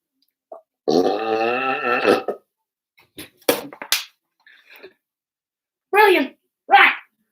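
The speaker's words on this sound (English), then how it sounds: "I'm just about to burp into the cup." A person burps loudly into a cup, a long rumbling belch followed by short clicks, breaths and two brief grunting bursts, close and echoey with no other talk.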